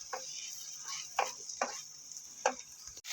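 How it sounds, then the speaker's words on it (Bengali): Leafy greens and fried potatoes cooking in a pan, with a quiet, steady sizzle broken by several distinct scraping strokes of a spatula as the mixture is stirred. "ভালো করে নেড়ে চেড়ে নিলাম।"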